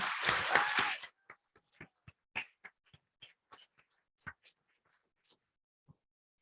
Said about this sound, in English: let's give her a round of applause for her accomplishment